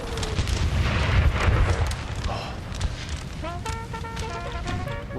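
Cannon and musket fire from a Napoleon: Total War battle at Wilson's Creek in the American Civil War mod, a dense, continuous rumble of booms with sharper reports and crackling later on, steady and loud throughout.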